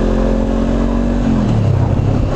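Honda CBR400R (NC47) motorcycle being ridden on a road in Japan, a steady loud engine drone with a low pitch that shifts partway through as the revs change, continuous and close.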